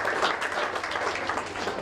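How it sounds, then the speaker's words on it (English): Applause for students at a school science fair, a steady wash of many hands clapping, fairly soft and continuous, with a faint voice underneath. "so great round of applause to again all of you for your ideas"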